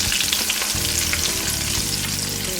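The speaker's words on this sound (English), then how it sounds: "they have a lot of liquid, so a lot of popping. You're going to hear that when it's frying." Oysters frying in hot oil, a dense, loud sizzle with scattered sharp pops and crackles heard up close, continuous with no talking.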